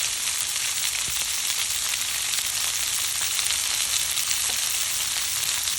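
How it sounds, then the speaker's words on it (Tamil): Dried red chillies, curry leaves and onion fry in hot oil, giving a steady, loud, dense sizzle that runs unbroken throughout, with a few faint clicks of the pan beneath. "செத்த மிளகாய் போட்டுட்டு கருவேப்பிலையும் வெங்காயம் போட்டு வதக்கி கொள்ளுவேன்."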